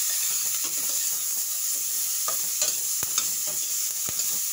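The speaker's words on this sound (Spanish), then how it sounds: "Vamos a seguir revolviendo." Caribbean-style zucchini sizzles steadily in a pot while a spoon stirs it, with a constant frying hiss and a few sharp scraping knocks near the end.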